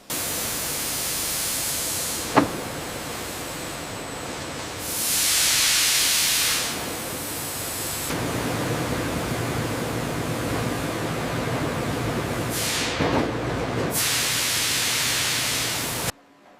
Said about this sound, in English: steam is injected to add moisture back, making them pliable for processing